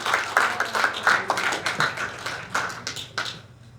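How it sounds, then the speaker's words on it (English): Audience applause at an evening network-marketing event in Arizona, a dense patter of many hands clapping steadily for several seconds before thinning and fading out. "Let give them another round of applause, please."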